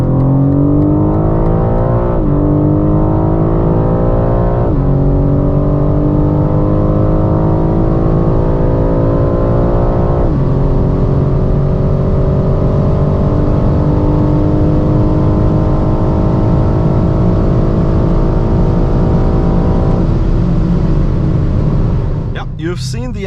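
A BMW M4 Competition fitted with an M-Performance exhaust accelerating hard through several gear shifts, its loud, aggressive engine note climbing repeatedly in pitch and dropping at each shift, sustained and close for over twenty seconds.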